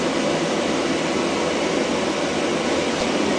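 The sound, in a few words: calibration noise source for monitor level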